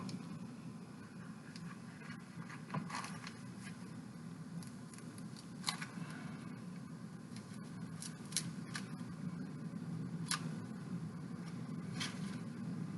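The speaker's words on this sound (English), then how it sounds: "So I'm just cutting out a little trapezoid here." Small scissors snip through material to cut out a little trapezoid-shaped piece for a homemade Halo Warthog model, with steady light clicks and snips at close range over a constant low background hum.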